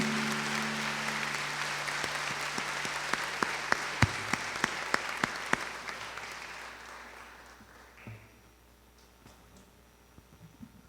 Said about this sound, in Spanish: Quiero que por favor le demos un aplauso a la palabra de Dios fuerte.